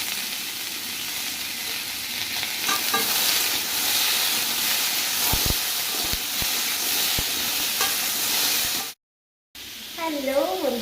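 Aloo posto with tomato sizzles in a pan while being stirred, a steady frying hiss broken by scraping stirs and a few sharp clacks; the sound cuts out briefly near the end.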